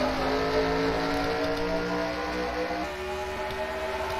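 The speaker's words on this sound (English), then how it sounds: "Here, Jim Caddick and Charles Building will lead us to the green flag here at Bristol." Racing trucks thunder continuously at Bristol in a racing video game, a dense droning engine roar with rising revs as the pack takes the green flag, loud and steady throughout.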